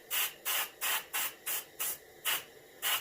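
An airbrush sprays paint on a warmouth fish reproduction in quick bursts, eight or so short hissing puffs with brief gaps between them, close and steady.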